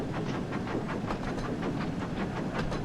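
Union Pacific Big Boy 4014, an articulated steam locomotive in the Thomas & Friends video game, rolls along steadily with a broad rumbling hiss and faint rhythmic clicking, continuous and fairly close, with no voices.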